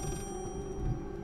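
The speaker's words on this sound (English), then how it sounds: "And this ringing is making me insane." A steady electronic ringing tone drones continuously at low volume in the Layers of Fear horror video game, a sustained hum with faint high tonal layers and no voices.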